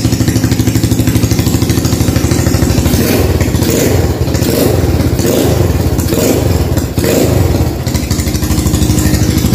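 A motorcycle engine runs loudly up close, its rapid rough idle throbbing with clattery pulses and small revs, steady throughout.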